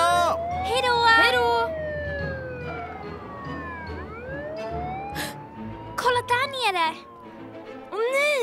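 A wailing emergency siren sweeps up and down under excited voices and tonal melodic sounds, fairly loud and close.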